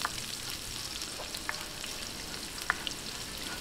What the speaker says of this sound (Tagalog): Umpisahan na po natin yung paggigisa. Okay, lagay po natin ang bawang.